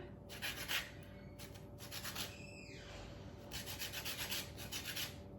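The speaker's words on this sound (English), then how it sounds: "I need some lemon zest. So let's take some zest from here." A lemon is zested on a grater in quick rasping strokes, in bursts with short pauses between them, close and fairly quiet, with no talking.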